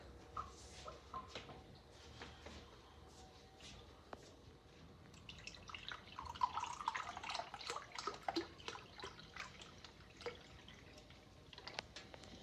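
Cold water is poured into a roasting pan around a chicken, a soft trickling and splashing that swells in the middle and then fades into drips, faint and close.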